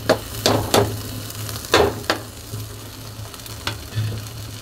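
Ginger and garlic paste fry in a pan with turmeric, chili powder, bay leaf, cardamom, cinnamon and salt for a prawn bhuna, a soft continuous sizzle punctuated by several sharp clacks of a spatula stirring.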